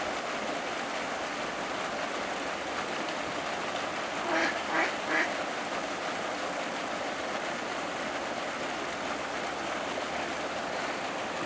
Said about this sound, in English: And we have a turtle and a duck.